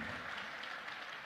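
Faint, steady applause from a crowd at a live event where a mimicry artist performs political impressions, a short continuous patter of clapping heard from a distance.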